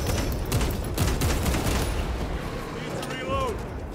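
Heavy weapon fire in Warhammer 40000: Space Marine 2 roars in a loud, continuous barrage of overlapping shots and booms, close and dense, with voices partly audible underneath.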